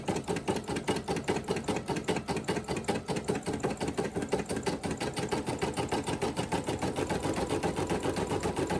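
Embroidery sewing machine stitching an applique, a fast, even rhythmic clatter of the needle running steadily throughout, close and without speech.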